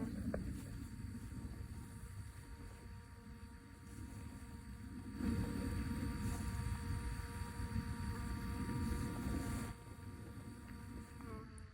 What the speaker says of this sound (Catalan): És una abella que és com un dron. Fa el mateix ruïdo que el dron